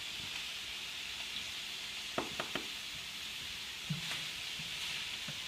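Shrimp sizzling steadily in a pan with a constant soft hiss, and a few light knocks of a utensil stirring them partway through.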